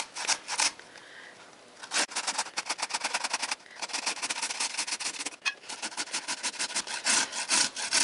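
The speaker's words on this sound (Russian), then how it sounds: "На крупной терке тру морковь." A carrot is grated on a coarse grater in a kitchen, making rapid rhythmic rasping strokes in several bursts with short pauses between them, fairly close and alone.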